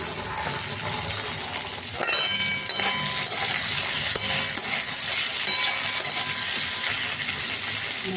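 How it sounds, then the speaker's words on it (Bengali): Ridge gourd tipped into a pan of partly fried potatoes brings a sharp burst of hissing, settling into a loud continuous sizzle with stirring scrapes throughout. "দেখো, আলুগুলো কিছুটা ভাজা হয়ে গেছে। এবারে ঝিঙেটা দিয়ে দিলাম।"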